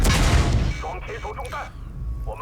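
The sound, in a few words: Tank hit by high explosive shell, from video game World of Tanks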